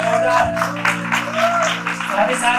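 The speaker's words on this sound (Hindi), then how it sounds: "जोरदार तालियां राजपूत समाज के लिए" A hall audience applauds to honour the Rajput community at a college talk, a steady patter of clapping over a low tonal hum, with a voice briefly rising through it.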